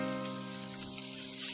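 Finely chopped cauliflower sizzles in a hot pan of oil with onion while fried rice is being made, a steady crackling hiss throughout that swells slightly at the end, with no talking.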